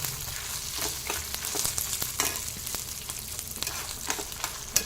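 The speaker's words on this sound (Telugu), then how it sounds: "ఒక 10 నిమిషాలు వేయించాలి" Peanuts, sesame seeds and tomato pickle ingredients fry gently over a low flame, a steady soft sizzle and crackle with occasional light stirring clicks.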